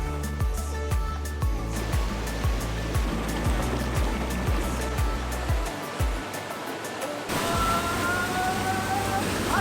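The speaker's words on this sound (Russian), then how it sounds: "Вода медленно переливается из одного уровня в другой." Water spilling slowly from one pool level to the next near a waterfall in Sri Lanka, a steady close wash of flowing water with a low rhythmic thudding underneath and a brief drop in the low end partway through.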